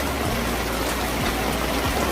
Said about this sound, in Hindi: यहाँ पे इतनी भारी बारिश में पड़ा हुआ हूँ मैं